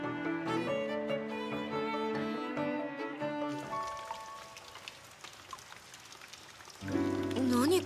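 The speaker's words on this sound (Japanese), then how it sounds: "何これ、雨漏り？" Rain in Blue Reflection: Second Light, soft pattering and drips from a leaking roof over tonal game music that fades out partway, leaving the steady patter before the music returns.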